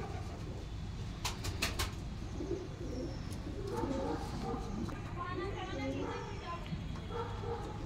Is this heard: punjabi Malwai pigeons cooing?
yes